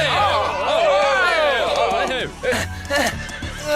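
A cartoon horse whinnies loudly in a long, wavering neigh, followed by a few shorter snorts and bursts of sound, from an animated Pocahontas cartoon series.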